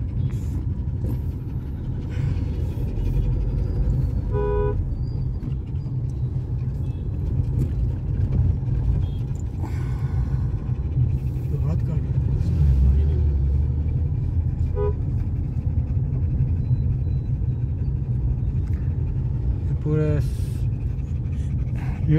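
Street traffic with vehicles driving past and a few short horn honks, a steady low rumble throughout, with people talking and a dog heard nearby.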